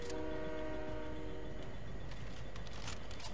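A train in the Fortnite video game sounds its horn with a steady multi-tone blast lasting more than a second, followed by rolling rail rumble and clatter, loud and close.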